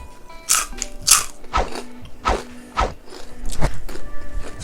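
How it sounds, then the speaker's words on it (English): Repeated loud, close crunching bites into a crisp Thai-flavored burger, about half a dozen sharp crackly bursts with chewing between them, no talking. "One more time for the crunch. Listen to this."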